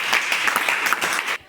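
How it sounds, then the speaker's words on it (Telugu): Children in a classroom clap together in a steady burst of applause lasting over a second, close and fairly loud, then stopping abruptly. "వెరీ గుడ్ మా, క్లాప్స్"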